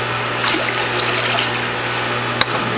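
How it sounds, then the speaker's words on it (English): French sorrel juice, pressed with turmeric, garlic and ginger, is poured into a container, giving a close, steady trickle and splash of liquid with a faint low hum beneath and a small knock near the end. "pour it into my container"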